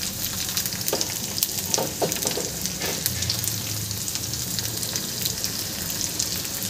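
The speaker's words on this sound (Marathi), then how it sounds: "यामध्ये आता आपण कांदा घालून घ्यायचा आहे." Onion frying in oil with garlic for a sprouted fenugreek curry, a continuous close crackling sizzle with scattered spatters and a few soft stirring scrapes, no voices.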